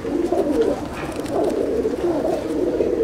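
Several Chennai breed pigeons coo continuously inside a loft, a dense murmur of throaty calls that swells in the middle and stays close, with no voices.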